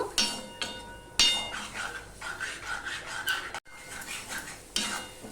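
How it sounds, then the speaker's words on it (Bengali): Spice paste with a splash of water being stirred and fried in a pan for a spicy bhindi (okra) dish, with repeated scraping and clinking of a spoon against the metal, a few sharp knocks, and a soft sizzle beneath. "এবার ভালো করে মশলাটা আমি কষিয়ে নেব"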